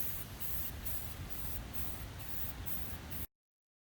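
An aerosol rattle can sprays paint in a loud continuous hiss with slight pulsing surges for about three seconds, then cuts off abruptly into silence, with no talking.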